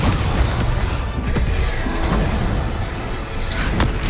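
A Bombarda spell explosion in Hogwarts Legacy booms loudly, followed by a few heavy rumbling blasts and a rough, sustained roar across the whole stretch.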